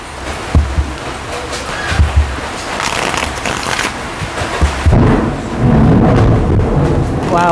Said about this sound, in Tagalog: May kulog kidlat pa, matching, guys.